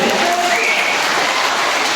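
An audience at a religious discourse claps loudly and continuously, a dense, even wash of applause filling the whole moment.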